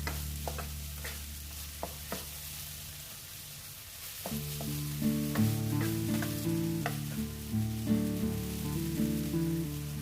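Rice noodles stir-fried pasta-style with tomato sauce in a pan, a steady sizzle under repeated scraping and tossing strokes that grow busier and louder midway through, heard up close with no talk.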